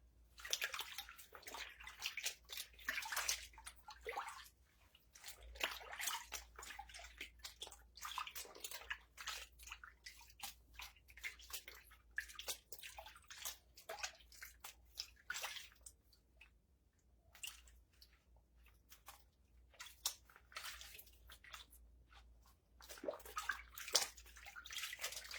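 A vintage wedding dress is washed by hand in a bathtub, with quiet sloshing, squishing and dripping of water in irregular bursts and a few calmer pauses; no speech.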